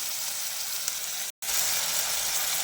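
Tomatoes and onions sauté in a pan for a Tamil mushroom thokku, giving a steady close sizzle with a brief silent gap near the middle and no talking.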